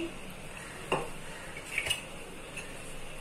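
A kadai (wok) set onto a kitchen stove: a few faint metallic clinks and knocks over a quiet room hum, with no voices.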